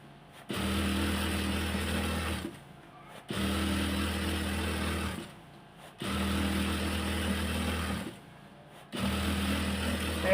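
An electric sewing machine runs in four bursts of roughly two to three seconds each while stitching a salwar, a steady close motor whir and needle chatter separated by short quiet pauses.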